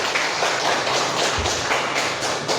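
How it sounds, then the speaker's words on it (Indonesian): Applause from a classroom audience for a student named Aldi, a steady wash of many hands clapping at close range, with no voices over it. "Kita beri tepuk tangan untuk Aldi."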